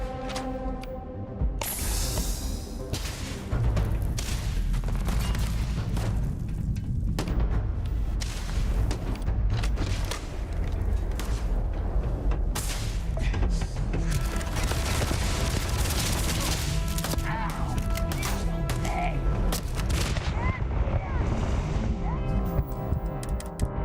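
A laser rifle firing repeatedly in Starfield at max difficulty, with a dense, loud run of rapid shots and impacts going on nearly without a break alongside other combat noise, no talking.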